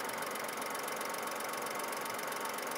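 Car engine running at a steady idle, a continuous even mechanical hum and rattle throughout with no talking.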